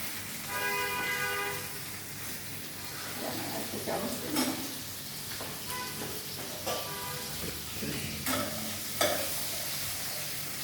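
Grilled chicken sizzling in a pan as pieces are lifted out, a soft steady sizzle with stirring and scraping scrapes, a few knocks, and faint background music and talk.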